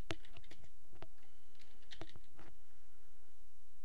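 Someone types on a computer keyboard, a short burst of close, crisp key clicks at an uneven rhythm, then stopping.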